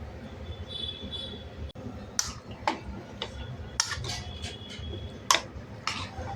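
Chicken nugget marinade with buttermilk and green chili sauce being mixed in a bowl, with a series of sharp utensil clinks and taps against the bowl, spaced irregularly over soft background noise.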